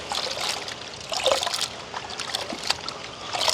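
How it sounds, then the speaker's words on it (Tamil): Dried squid pieces are washed by hand in water, with close trickling, sloshing and small splashes that rise and fall irregularly, and no talking. "2 தடவை நாங்கள் அப்படியே கழுவி எடுப்போம்."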